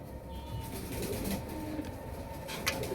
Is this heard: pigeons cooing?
yes